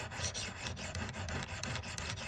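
A compound bow broadhead is honed on a Work Sharp sharpener, giving a steady, continuous abrasive rasping hiss up close for about two seconds with no pauses and no talk.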